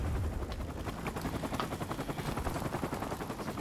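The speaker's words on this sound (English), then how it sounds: "I don't remember getting a chopper in this video." A helicopter in the video game Call of Duty 4: Modern Warfare Remastered, a steady rotor drone mixed with rapid bursts of gunfire, continuous and fairly loud throughout.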